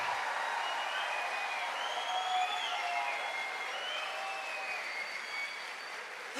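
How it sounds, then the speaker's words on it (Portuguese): A youth camp congregation at a religious gathering applauds and cheers in a continuous, fairly distant wash of clapping with some shouts and whistles woven through, holding steady the whole time. "Não, aplaude de verdade, aplaude de verdade, aplaude de verdade"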